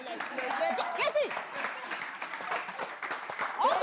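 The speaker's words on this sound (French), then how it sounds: "Merci, applaudissez." Audience applause at a live French music show, steady clapping and crowd noise mixed with voices talking over it throughout.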